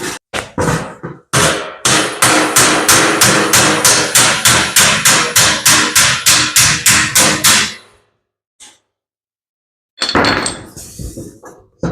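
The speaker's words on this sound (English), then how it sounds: "just going to put my dolly on the back side, hammer on the outside" Rapid, evenly spaced hammer strikes on a weld in automotive sheet metal backed by a dolly ring out loud and close, about twenty blows in a steady run, then a pause and a few more hits.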